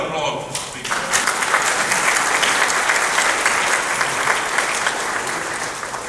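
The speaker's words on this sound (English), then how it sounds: "Let's have another applause for the speaker." Sustained audience applause fills a room at a veterans luncheon in Murrells Inlet, South Carolina, with steady, dense clapping throughout and no voices rising above it.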